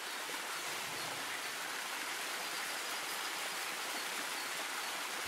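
Water trickling and dripping over slick black rock inside a cave in The Last Campfire video game, a steady, dense wash of flowing water with no distinct individual drops standing out, even and continuous throughout.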